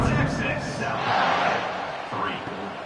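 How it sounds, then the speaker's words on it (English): A stadium crowd in a college football video game, a steady, dense roar that swells slightly midway and stays under a commentator's voice throughout. "this crowd is buzzing after that last score"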